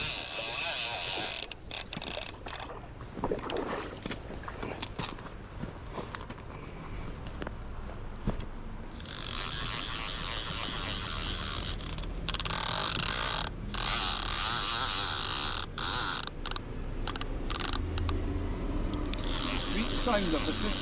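A Hardy-style fishing reel, the 1540, on the River Tweed gives a loud, sustained mechanical ratchet scream as a hooked salmon runs line off it. The buzzing whirr rises and falls in long bursts with brief pauses, close and dominant over the river ambience.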